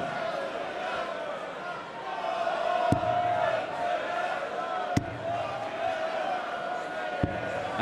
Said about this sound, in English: now we're hearing a few strains of walking in a Taylor Wonderland around the Motor Point Arena